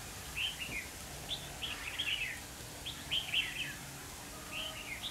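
A red-whiskered bulbul sings outdoors in short, bright chirping phrases that repeat at intervals, fairly clear over light wind and background noise.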